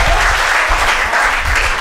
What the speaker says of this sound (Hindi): दोस्तों ये थोड़ी तालियां अतिरिक्त दीजिए, पहली बार सुना है।